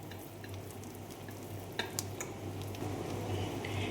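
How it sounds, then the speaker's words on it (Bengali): Soaked biuli dal batter for doi bora, seasoned with fennel seeds and asafoetida, is beaten briskly by hand in a bowl, giving a steady, close, continuous wet churning and scraping with faint clinks. "এবারে দিয়ে এটা ভালো করে এইভাবে ফেটিয়ে নিতে হবে।"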